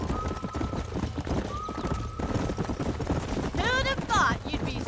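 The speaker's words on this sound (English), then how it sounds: "These are fine horses." Horses in Red Dead Redemption clop along steadily, their hooves pattering beneath a continuous musical score, with a shrill whinny rising near the end and a voice briefly heard.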